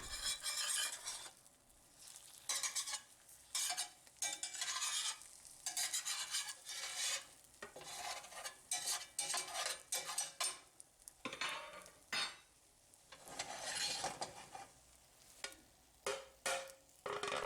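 Eggs sizzling in a hot cast iron pan as an omelet is folded, with a steady close frying hiss broken by spatula scrapes and clinks against the pan.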